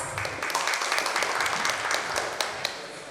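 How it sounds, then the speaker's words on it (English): Attendees at a corporate HR roundtable on retail talent acquisition applaud a panelist with steady, moderately distant clapping, a few sharper claps standing out near the end. "Let's have a huge round of applause."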